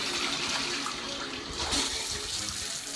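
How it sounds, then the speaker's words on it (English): Shower water runs in a steady, dense hiss that stays loud and continuous throughout, with no voices over it. "Now it's time for a shower."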